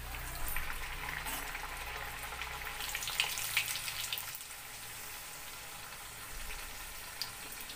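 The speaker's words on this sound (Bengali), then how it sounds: "দেখো, বেশ সুন্দর ভাজা হচ্ছে," Pea-stuffed kachori fry in smoking-hot oil in a pan, giving a steady, close crackling sizzle with small pops throughout.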